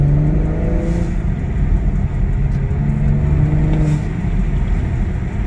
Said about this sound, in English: You can hear it kind of semi-venting when you're under throttle, kind of like the N54 does.